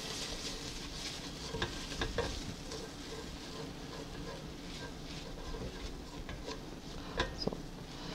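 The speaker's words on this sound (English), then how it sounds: "cook the tomato paste about a minute with the roux in order to develop their flavor" Tomato paste cooking in a roux for red bell pepper cream soup, giving a soft steady sizzle with scraping stirs and occasional utensil clicks throughout.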